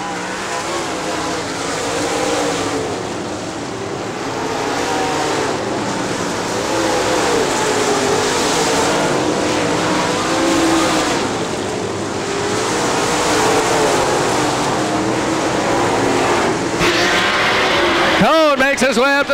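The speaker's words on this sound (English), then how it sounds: "Side by side racing in the back part of the field" Late model race cars roar around Crystal Motor Speedway, a continuous loud engine drone rising and falling as cars race side by side, with an announcer talking over it throughout.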